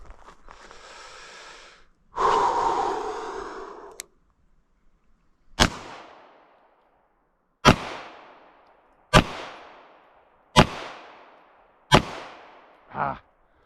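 Handgun shots fired at a target, about seven sharp loud cracks spaced roughly a second and a half apart, each trailing off in a short echo, after a few seconds of quieter rustling and breathing.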